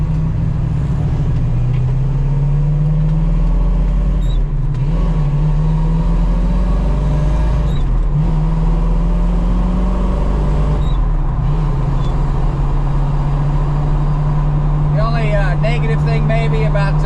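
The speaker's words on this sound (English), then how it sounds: "cruising along with some classic cars" Classic cars cruising along a quiet route on a group fun run, a steady loud engine drone with a low humming note running throughout, shifting pitch slightly as they roll, with no talk over it.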